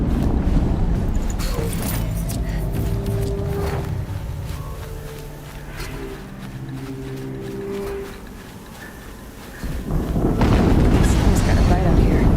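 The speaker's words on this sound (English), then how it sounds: "Another explosion." Explosions boom through the action video game Horizon Zero Dawn, a loud rumbling blast at the start and another surging near the end, with game sounds and faint voices between them.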